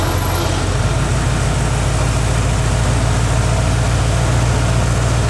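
A junkyard truck engine runs at a raised, steady idle, a loud continuous low rumble that holds without a break and with no talk over it.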